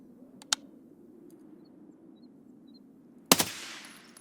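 Burst-fire gunshots in a video game: a short sharp crack early on, then after a quiet stretch a louder tight burst of rapid shots with a ringing tail, all close and without talk.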